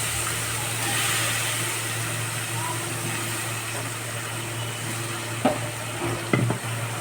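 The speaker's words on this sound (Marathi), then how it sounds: "आपण बटाटे टाकूया आता याच्यामध्ये" Potatoes dropped into a hot pan for aloo matar sabzi give a steady, even sizzle throughout, broken by a few soft knocks near the end as they are stirred.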